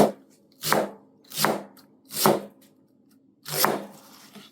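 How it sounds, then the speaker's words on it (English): A knife chops an onion finely on a cutting board while meatballs are being prepared. Four crisp, close chops land at an uneven, unhurried pace with short pauses between them, and no one speaks. "we're going to get into chopping the onion here."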